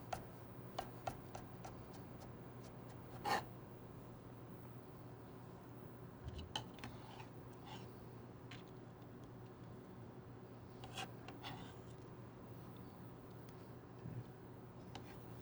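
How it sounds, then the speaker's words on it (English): Knife cutting julienned vegetables into brunoise on a cutting board for roasted sweet potato and apple soup, faint sparse ticking chops spread out irregularly over a quiet, humming kitchen background. "Now you cut your julienne to a nice brunoise here."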